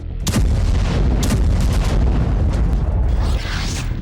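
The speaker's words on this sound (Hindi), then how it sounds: "रूस ने झुलियानी एयरपोर्ट पर एक के बाद एक 7 धमाके किए" A rapid series of heavy explosive booms from a missile attack on an airport in Ukraine, loud and close, rumbling one after another with no voices.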